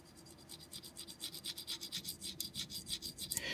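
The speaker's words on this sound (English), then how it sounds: "I take this flathead and I scrape along here a little bit as far as it'll go" Flathead screwdriver scraping gook from a Coke bottle knife, about twenty quick rhythmic rasping strokes, close and faint, ending in a brief scratchy flourish.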